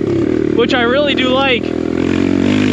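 A BBR KLX170RF dirt bike engine drones steadily and close throughout, its note holding under a man's speech for much of the time.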